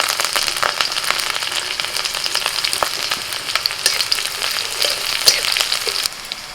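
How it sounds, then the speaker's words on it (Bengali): Green chillies frying in hot oil with a steady, dense sizzle throughout, punctuated by occasional sharp crackles and pops, close and fairly loud, ending a little quieter. "তেলের মধ্যে লঙ্কাটা একটু ভেজে তুলে নিচ্ছি"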